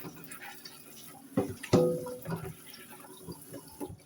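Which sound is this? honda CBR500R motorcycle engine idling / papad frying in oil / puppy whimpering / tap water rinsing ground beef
tap water rinsing ground beef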